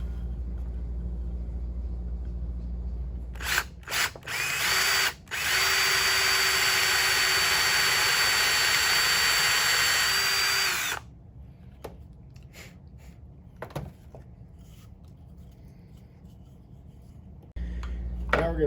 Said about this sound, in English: we're going to drill a 5/16 hole in the bottom